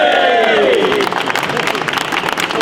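Spectators at the London Marathon clap and cheer, a loud burst of crowd noise that opens over a rising shout and settles into continuous applause and babble.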